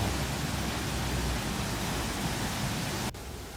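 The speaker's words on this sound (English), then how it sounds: "And here it is, the Brown Mountain Dam Waterfall." The Brown Mountain Dam waterfall in Arroyo Seco, Angeles National Forest, after recent rain, giving a steady, dense roar of falling water close by that drops slightly in level near the end.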